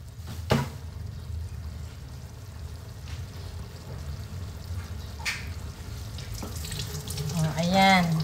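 Tap water runs steadily into a kitchen sink for washing while a Filipino dish of anchovies in coconut milk is cooked, a continuous close splashing stream with a clatter of dishes and a voice heard toward the end.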